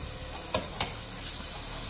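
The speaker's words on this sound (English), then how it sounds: "just cook it until the beef is basically pretty, you know, sort of medium rare cooked" Ground beef sizzles in oil in a pan for a home-style beef and celery dish. A short, steady close hiss is broken by two sharp stirring clicks.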